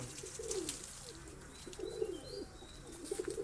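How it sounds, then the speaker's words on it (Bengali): Saharanpuri pigeons at a high-flying pigeon breeding loft coo in repeated low rolling phrases, fairly close, over faint background birds and ambient noise, with no talking. "দেখুন পায়রাগুলো"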